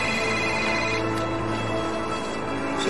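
A telephone ringtone chimes continuously and steadily at close range in a busy workshop setting, filling the whole moment without any voices over it.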